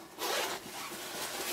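The zipper on a 65-liter backpack is pulled open in a close, scratchy rasp that surges at first, then carries on in a steadier rubbing run.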